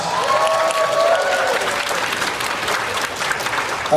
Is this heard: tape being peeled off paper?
no